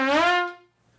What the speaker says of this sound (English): it uses a slide, and that allows it to make sounds like this